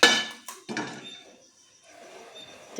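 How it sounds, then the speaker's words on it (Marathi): Iron tawa griddle set down on a gas stove, a few sharp metallic clanks and scrapes separated by brief quiet, close and loud. "आता गॅसवरती आपण तवा गरम करायला ठेवूया."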